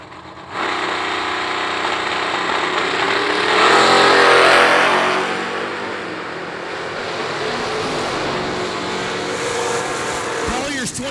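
Drag racing cars, a notchback Mustang and a Maverick, launch down the strip at the IHRA World Finals, loud engine roar building and then fading into the distance with a steady crowd and track background and announcer talk over it.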